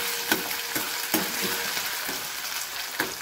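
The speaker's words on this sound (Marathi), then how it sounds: "बटाट्याचे काप आपण याच्यात घालायचे आहे। बटाटा व्यवस्थित परतून घ्या।" Potato slices stir-fried in a pan, with steady sizzling and a few sharp scrapes of a spatula spaced through a short stretch; no one talks.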